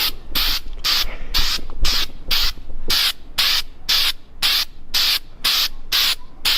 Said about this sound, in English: give it a little test spray before